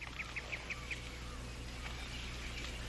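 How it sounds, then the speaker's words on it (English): A hen gives a run of about five quick, chirpy calls early on, then falls quiet. The calls are faint and sit over a steady low background hum. "Got us a new hen, Paul."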